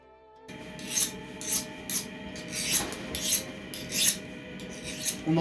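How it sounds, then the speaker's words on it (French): A hand file rasps over a hardened, quenched C130 steel knife blade for a folding knife, skating rather than biting; about nine steady, rhythmic strokes, close and distinct with no talk. "On entend bien que la lime n'accroche pas sur le C130"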